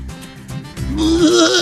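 A man imitates a goat's bleat, giving one loud, drawn-out wavering cry after some brief noisy sounds.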